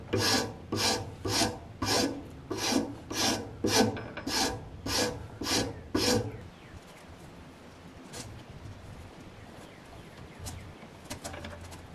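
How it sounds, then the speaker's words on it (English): A wood rasp files down a sliding dovetail joint in a rhythmic back-and-forth, with about ten loud rasping strokes that then give way to quieter scattered scraping. "You can use a rasp like I'm doing and get it down so far"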